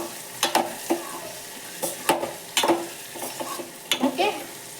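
A spoon stirring green chili besan in a pan, giving intermittent scraping strokes with soft sizzling between them, close and fairly quiet.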